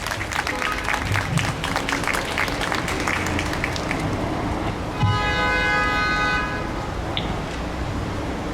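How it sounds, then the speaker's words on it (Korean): Crowd at an outdoor rally demanding an investigation into a teacher's death applauding to welcome a speaker, a dense steady clapping wash throughout, with a horn-like tone sounding briefly midway. "박수로서 환영해 주시기 바랍니다."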